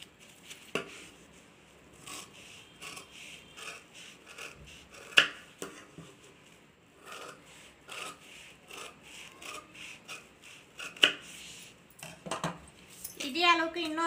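A round piece for a handbag is being cut out, heard as a run of soft, irregular scraping and rubbing strokes with small clicks and knocks. A sharper, busier scratching flurry comes near the end.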